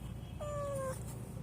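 A cat, a mother cat in poor condition, gives one clear drawn-out meow lasting about half a second, alone over a low steady background.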